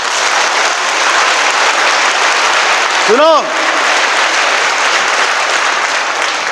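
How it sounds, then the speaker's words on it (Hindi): An audience claps and applauds during a church sermon, a steady wash of applause throughout, while a preacher speaks briefly over it. "पहली बार तालियां हो गया, अभी दूसरी बार देखो।"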